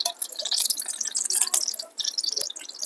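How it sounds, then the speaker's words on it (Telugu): Cooking oil goes into a pan for a radish curry, a close, bright, trickling and dripping liquid sound with a few sharp splashes over a few seconds, and no talking. "ఇప్పుడు కొంచెం నూనె వేసుకుందాం"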